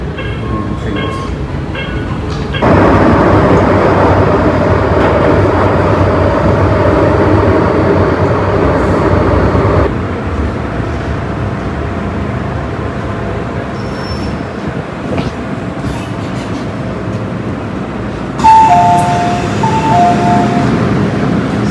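Ride aboard a Hong Kong MTR subway train, a loud steady rumble of wheels and car noise throughout, with brief squeals and chimes near the end and faint voices in the carriage.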